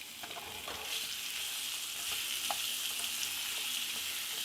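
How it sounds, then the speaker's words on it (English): Steady, bright crackling sizzle of potatoes frying in a hot pan, with a few soft scraping stirs, close by and with no talking. "Ooh, I like the sound of the sizzle."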